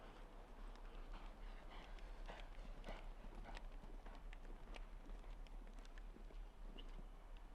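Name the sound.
horse hooves galloping in show jumping round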